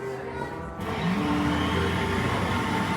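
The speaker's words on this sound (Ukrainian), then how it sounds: "Ага, тепер я кручу і буде блендер робити." A hand-cranked blender at a science park whirs up after a brief quieter start, then keeps a steady rough motor-like drone for the rest.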